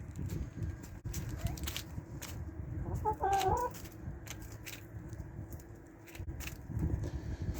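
Chickens, including a rowdy cockerel, cluck and murmur close by, with a brief louder squawk in the middle, over a low rumbling background.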